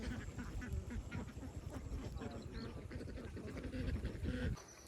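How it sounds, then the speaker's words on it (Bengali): Many ducks quack steadily and loudly beside a duck house, a dense overlapping chorus that carries on without pause until the very end, with faint background voices mixed in. "আর ওই পাশে সব হাঁস,"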